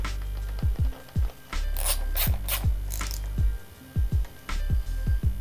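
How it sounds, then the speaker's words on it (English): Ratchet wrench driving 10 mm bolts into a motorcycle headlight shroud on a Honda CRF450RL, heard as short bursts of close clicking and rasping separated by brief pauses and handling noise. "secure the headlight shroud with the 10 millimeter bolts"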